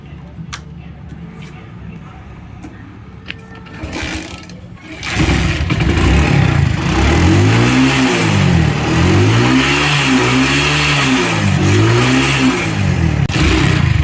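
A motorcycle engine, being bored out at home, fires up after a few seconds of quiet clicks and handling noise, then revs loudly and close in repeated rising and falling surges over a steady running drone.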